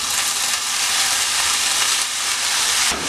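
Cooked green gram is added to a spice paste frying in a pan for cherupayar thoran, producing a loud, even, close hiss of sizzling that holds steady for a few seconds with no one speaking.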